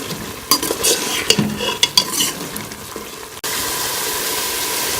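Masala frying in ghee for beef gobhi gosht is stirred, with close scraping strokes over a steady sizzle, followed by a sudden switch to a loud, continuous hissing fry.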